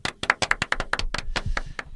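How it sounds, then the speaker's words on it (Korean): A few people clap their hands in a quick, close, uneven burst of sharp claps lasting about two seconds. "박수 한번 칠까요?"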